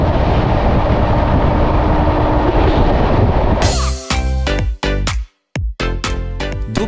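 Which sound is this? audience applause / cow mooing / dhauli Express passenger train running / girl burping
dhauli Express passenger train running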